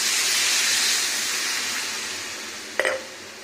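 A vegetarian curry of taro, pointed gourd and okra simmers in a pot, giving a steady close hiss that slowly fades, with a short clatter near the end.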